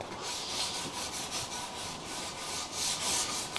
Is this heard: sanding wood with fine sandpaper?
yes